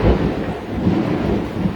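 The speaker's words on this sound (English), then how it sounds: "y'all hear that thunder?" Low, heavy thunder rolls and rumbles continuously and loudly through the whole moment, with a rain-like wash over it and no voices.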